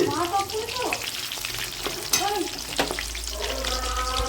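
Food frying in hot oil, a steady sizzling hiss with occasional sharp pops and crackles, close and fairly loud, with brief speech-like sounds over it.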